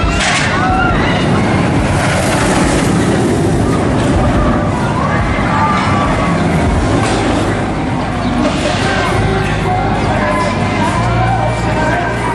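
The Valravn roller coaster train at Cedar Point rumbles and clatters through its vertical drop, a continuous loud roar mixed with crowd noise and voices nearby in an amusement park setting.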